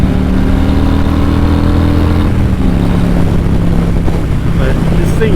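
A Harley-Davidson motorcycle with a 117 cubic inch, 1900cc engine rumbles steadily at a loud, close, even drone, with slight shifts in pitch as the engine note changes partway through.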